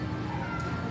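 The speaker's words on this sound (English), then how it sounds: "Is that my cat?" A house cat meows close by, a short harmonic cry over a steady indoor background, with a person's voice faintly mixed in.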